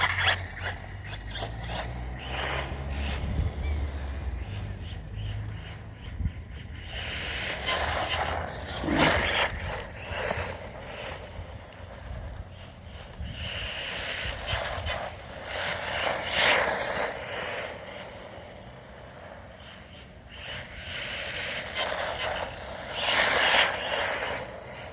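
A Wr8 Cossie RC car ripping around on a chassis test run, its small motor whirring and surging in repeated bursts over scuffing and scraping as it accelerates and turns, with no talk.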